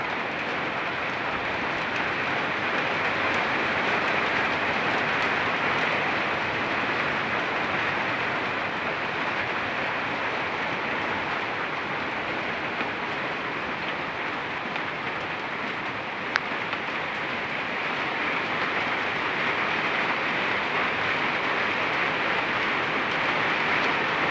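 Heavy rain pours down steadily in a thick, unbroken roar, with one faint sharp tick partway through.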